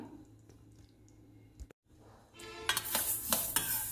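Mustard seeds and fenugreek seeds dry-roasting in a pan, a faint low background that breaks off briefly, then a louder crackling, scraping stir with a few sharp clicks from a spoon against the pan.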